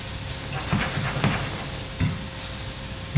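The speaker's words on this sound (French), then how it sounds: "Nous allons accélérer la cuisson de nos cébettes, de l'ail et de l'oignon." Spring onions, garlic and onion fry in a pan, a steady close sizzle broken by a few soft scraping stirs, with no talk.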